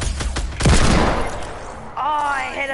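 A heavy hand cannon fires in a first-person shooter, a loud close blast followed by a fading rumble, with voices talking near the end.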